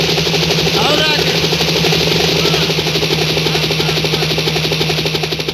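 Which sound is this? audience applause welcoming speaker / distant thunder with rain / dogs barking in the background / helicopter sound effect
helicopter sound effect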